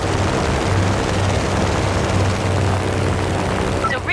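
Airplane engine droning in the Just Cause 3 video game, a loud steady propeller roar holding throughout, with a brief whooshing sweep at the end.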